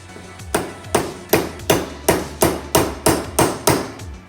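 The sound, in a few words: hammering a part into an AR-15 rifle build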